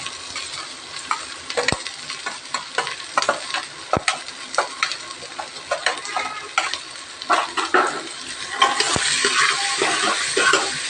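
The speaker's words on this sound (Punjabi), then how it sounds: "ਲਸਣ ਐਡ ਕਰ ਦੇਣਾ ਇਸ ਪਿਆਜ਼ ਐਡ ਕਰ ਦੇਣਾ" Garlic and onion fry in a pan with a steady, close sizzle, stirred by a utensil that scrapes and knocks against the metal in irregular strokes, growing a bit louder near the end.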